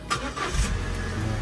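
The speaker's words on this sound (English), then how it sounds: "you just need to switch the car on" A Vauxhall Corsa D car engine starting from inside the cabin, a brief cranking catch that settles straight into a steady low idle rumble.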